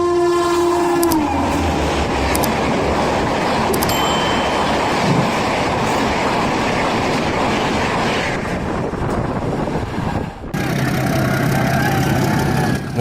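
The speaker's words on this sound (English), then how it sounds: "This is India's fastest train, and it absolutely looks the part." India's fastest train rushes past with a loud, continuous roar of wheels and rail noise, a horn tone sounding briefly near the start, the rumble holding steady before a sharp shift in character near the end.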